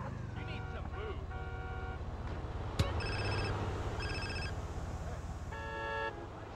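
A cell phone ringing in GTA San Andreas, several repeated electronic ring bursts over steady car engine rumble, with a sharp click partway through, moderately loud.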